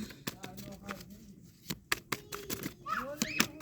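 Tarot cards handled and shuffled by hand give a run of sharp, irregular papery clicks and snaps, close and moderately loud, with faint voice sounds underneath.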